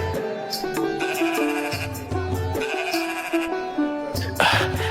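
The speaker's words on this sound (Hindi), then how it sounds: "ये भेड़ें तो बड़ी ही अच्छी नस्ल की लग रही हैं।" Sheep in a Hindi cartoon moral story bleat in repeated wavering cries over a looping musical backdrop, the calls coming clearly and close up across the whole stretch.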